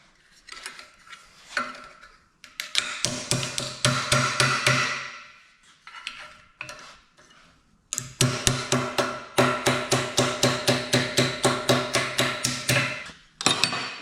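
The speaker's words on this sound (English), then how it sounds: "when you're just hammering it, you're actually stretching it if you're hammering it steel on steel" A hammer strikes a steel patch panel steel on steel to bend it into a radius, ringing clanks in quick rhythmic runs with short pauses, loud and near, and a long steady volley toward the end.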